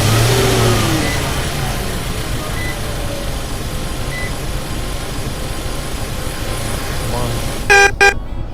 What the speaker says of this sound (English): We are taking this new Nissan Armada.